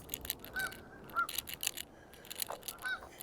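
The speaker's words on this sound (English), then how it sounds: "Geese," Several geese honk at a distance in short, uneven calls against an outdoor background hum on a chilly October day by a lake in Regina.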